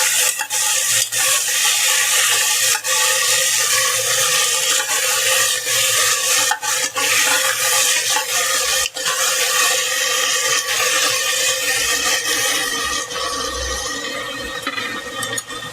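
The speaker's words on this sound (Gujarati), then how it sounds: "પછી આ બધું નખાઈ જાય પછી આપણે તેને મિક્સ કરી દેવાનું।" Steady, loud scraping and stirring in a pan as tomato is mixed into farali khichdi, a fasting recipe, with continuous rubbing of a spoon against the pan and no speech.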